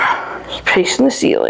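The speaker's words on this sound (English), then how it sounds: "So pardon the dogs here." Dogs barking and yipping indoors during a home mobility test, a few short sharp barks breaking through ongoing talk from a person nearby.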